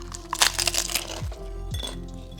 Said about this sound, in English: One bite and it immediately breaks apart, which that's how crispy it is.